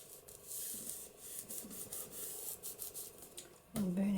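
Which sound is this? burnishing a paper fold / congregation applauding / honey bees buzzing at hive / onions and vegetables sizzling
burnishing a paper fold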